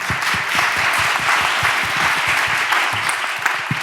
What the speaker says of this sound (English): So a special applause to our delegation from Ukraine, and welcome to Marinia.